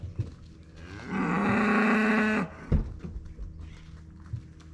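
A single cow moos nearby, one long loud low call lasting over a second, followed by a few soft thumps and quiet shuffling.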